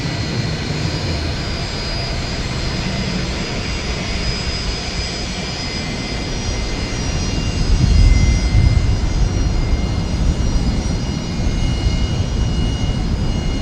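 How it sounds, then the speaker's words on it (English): A noisy Fokker 70 jet airliner arrives onto a gate at Brisbane Airport at night, its engines producing a loud, steady whine and rumble with a high tone, swelling briefly midway. "there's a very noisy Fokker just in front of me here, the Fokker 70 arriving onto Bay 49"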